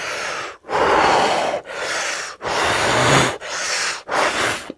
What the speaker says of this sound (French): le premier cycle, vous faites 30 respirations profondes